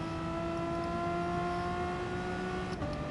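A car engine hums steadily at high revs on a fun day out with a GTS, with layered harmonic whine holding constant and a brief dip and shift near the end, loud and close with no talking.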